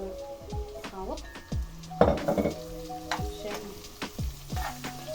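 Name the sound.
onions frying in a pan with meat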